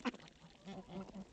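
Domestic white ducks quacking on a small farm kept alongside geese and chickens, a short burst of nasal calls up close at the start, then softer scattered quacks.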